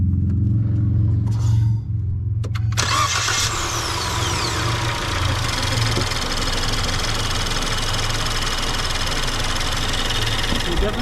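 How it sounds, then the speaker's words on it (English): A car engine with a coolant leak cranks and catches, then settles into a steady, loud running rumble close by, with no talk over it. "we're going to start the engine and see if that's where it's coming from"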